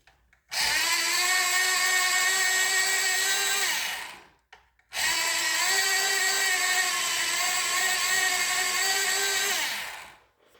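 An electric pencil sharpener runs in two long bursts of about four and five seconds each, a loud high whine with a brief pause between, no talking.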